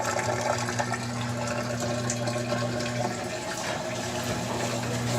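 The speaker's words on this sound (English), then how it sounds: "Now we're draining." A GE top load washer drains water with a steady rushing flow and a low pump hum underneath, continuous and close, with no one speaking.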